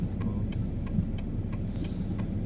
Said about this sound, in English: I managed to start the car.